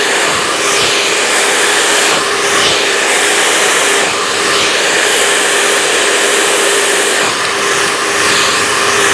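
A hair dryer roars steadily and loudly as hair is blow-dried over a rotating round brush, its broadband whoosh continuous throughout with slight periodic dips as the airflow shifts around the brush, and no voices heard.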